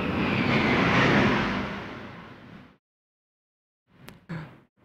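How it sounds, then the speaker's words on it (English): A broad roar from a passing airplane swells and then fades away over about three seconds. After a pause of near silence come a couple of brief, faint knocks. "Sorry, there's a plane."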